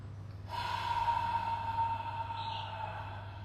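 A single deep breath during a breathing exercise: a long, audible airy exhale released through an open mouth like a sigh, close and soft, over a low steady hum.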